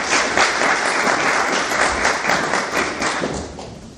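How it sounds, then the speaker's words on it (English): Sustained applause from a podcast audience welcoming guest Mark Gonzales, a dense steady wash of many hands clapping with occasional thumps, continuous throughout. "Please give our guest, Mark Gonzales, a big round of applause."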